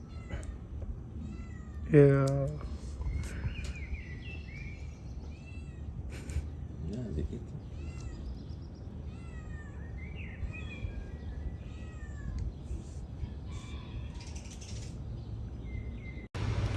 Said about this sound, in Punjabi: ਦੇਖੋ ਬਿੱਲੀਆਂ